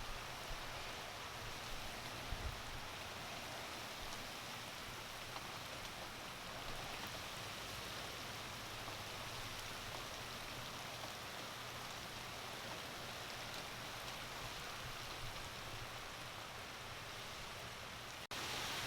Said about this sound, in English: really starting to get some strong winds and really heavy rains